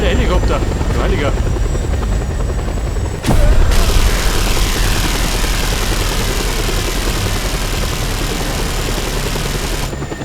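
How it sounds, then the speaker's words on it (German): A helicopter in the video game Just Cause 2 roars loudly and steadily, its engine and rotor wash filling the scene nonstop, with a sharp thump partway through and voices talking over it. "Da ist der Helikopter!"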